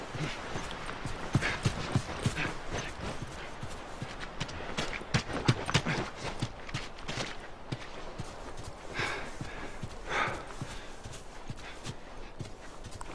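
Horse hooves clip-clop in The Last of Us, a steady run of soft footfalls with occasional snorts over a busy game background for the whole stretch.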